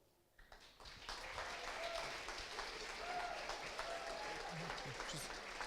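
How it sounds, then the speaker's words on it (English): Applause from an audience at a hackathon award show follows an app presentation, starting abruptly after a brief quiet moment and continuing as steady, dense clapping from a crowd at moderate distance. "Thank you for the applause."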